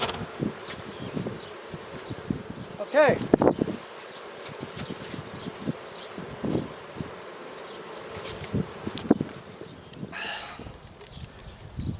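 Honeybees buzz loudly around an opened, queenless hive being requeened, a dense, agitated drone with close passes and swells near the microphone and occasional rustling handling sounds. A voice briefly says a word.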